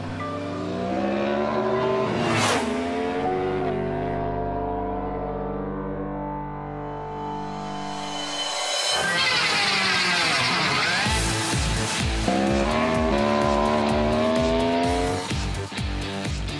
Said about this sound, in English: A robot riding an R1.